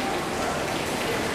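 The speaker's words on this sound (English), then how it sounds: "Mostly just to get out of the rain" Steady rain falls around an outdoor historic village, a dense even hiss of drops that continues without break through the short stretch.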